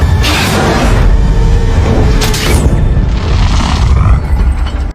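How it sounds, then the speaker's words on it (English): A loud, sustained blast roars and rumbles for several seconds with a whooshing, crackling texture before cutting off abruptly. "before causing an explosion."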